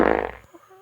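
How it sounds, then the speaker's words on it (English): A single loud, close fart from a man with an upset stomach and bad gas, a sputtering burst lasting about half a second before cutting off into quiet outdoor background. "I was farting a lot and loudly."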